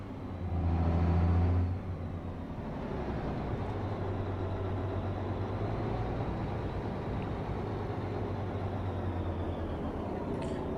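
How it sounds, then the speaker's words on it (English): A 350 horsepower truck engine in American Truck Simulator, a loud low revving surge early on settling into a steady droning hum that runs alone to the end. "for a 350 horsepower motor, this thing's got some pep to it."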